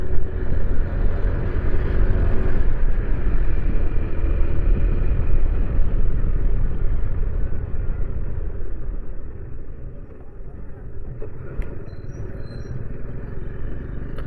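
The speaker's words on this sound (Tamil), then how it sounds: "இது கொஞ்சம் கடத்தெரு அப்படின்றனால இந்த இடம் கொஞ்சோண்டு டிராஃபிக்காக இருக்குது" Road traffic passes steadily along a small market street in Alathur, a continuous rumble of cars and motorbikes close by that eases slightly in the middle before building again, with no talk.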